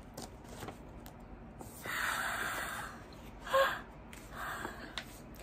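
A voice imitates a flock of shocked flamingos with a few sharp, breathy gasps, spaced apart over a quiet background.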